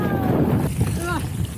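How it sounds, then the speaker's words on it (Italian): Gusty wind buffets the microphone on a mountain bike park slope at Mottolino, a loud low rumble with whistling tones, while people talk briefly over it. "Madonna sto vento."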